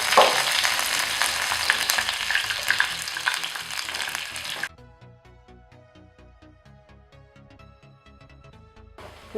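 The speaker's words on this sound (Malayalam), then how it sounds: "എണ്ണ ചൂടായി അതിലേക്ക് മസ്റ്റർഡ്, നല്ല ജീരകം, കറിവേപ്പിലയും" Mustard seeds, cumin, curry leaves and garlic crackle loudly in hot oil for a masala semolina bread seasoning, a dense sizzle lasting about five seconds before cutting off to music alone.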